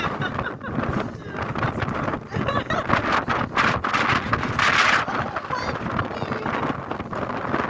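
Strong wind buffeting the microphone in a steady, loud roar with gusting surges, no speech heard.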